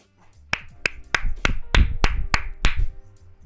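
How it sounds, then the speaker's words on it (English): Eight sharp hand claps ring out in a fairly even rhythm, loud and close, over a faint low hum with no talking. "heard about 2 of those claps"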